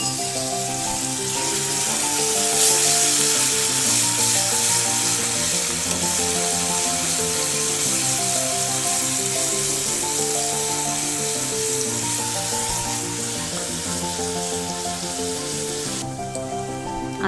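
Ginger garlic paste sizzles in hot oil for a homestyle Marathi fish curry, giving a continuous close frying hiss that runs steadily throughout with no voices.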